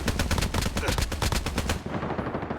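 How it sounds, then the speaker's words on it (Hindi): Gunfire at close range in the Call of Duty Mobile game comes as a loud, rapid burst of about a dozen shots, then stops abruptly and leaves a brief quieter tail. "क्लोज रेंज स्नाइपिंग करके इस बंदे की किसी तरह समाधि बना देते हैं।"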